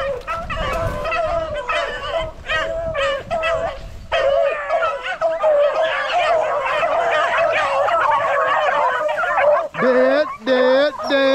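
A pack of hunting dogs chasing a rabbit, baying, barking and yipping in overlapping cries at mid distance, continuous and excited, with some whimpering tones and a few sharper barks near the end.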